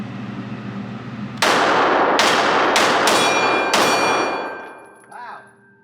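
A Valentine Arms Rebellion Glock 42 .380 pistol fires five sharp shots in an uneven sequence, each with a loud crack and ringing tail. A faint voice is heard briefly after the last shot.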